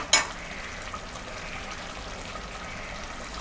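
Tender mutton frying in a pan while being stirred, a faint steady sizzle with a sharp spoon clatter at the start and light scraping, with no talking.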